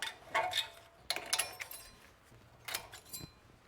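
Metal brake pad hardware clips pulled off the front brakes of a 2007-2013 Nissan Altima, giving a few separate light metallic clinks and jingles, close and fairly quiet, with no talk.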